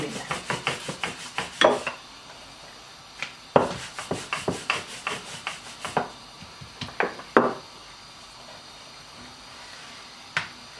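Paratha dough for a jaggery-filled gur paratha being worked on a board with a rolling pin, giving repeated light wooden knocks and rubbing strokes in short bursts with pauses, close and fairly quiet, with no talking.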